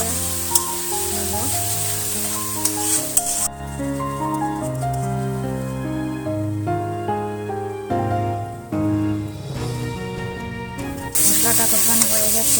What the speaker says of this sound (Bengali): এবার সব মশলাগুলোকে ভালো করে কষিয়ে নেব